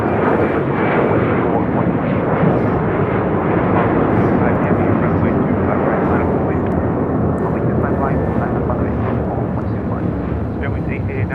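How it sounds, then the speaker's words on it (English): An Alaska Airlines Boeing 737-800 takes off at LAX, a loud and steady jet roar that fills the whole stretch with little change, under talk. "1390 taking off to San Jose, Costa Rica on a 737-800."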